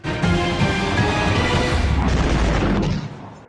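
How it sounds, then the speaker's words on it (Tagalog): A single loud, rumbling explosion blast in West Tehran, Iran, during wartime, sustaining for a few seconds before fading out. "Dumagundong ang pagsabog sa West Tehran sa Iran nitong Huwebes Santo."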